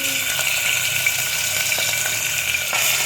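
Steady, continuous sizzling of mutton frying in hot oil in a small pressure cooker, loud and close, with a constant crackling hiss throughout.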